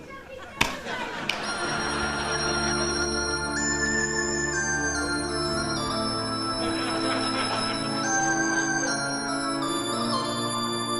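A phone rings with a melodic tone during a call to technical support on a comedy show, a steady run of stepped musical notes that continues for several seconds after two sharp clicks.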